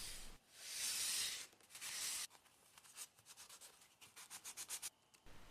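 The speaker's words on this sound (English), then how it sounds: "Finish sanding the top and inside edges by hand with 220 grit sandpaper." Sandpaper of 220 grit rubbed by hand along the top and inside edges of a wooden part, with a long steady scratchy stroke followed by a run of quicker rhythmic short strokes, close and fairly quiet.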